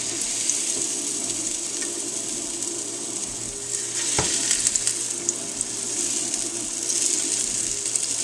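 Potato pancakes with chives and onion frying in a pan, a steady close sizzle with faint crackles and one soft clunk midway as they are turned, no talking.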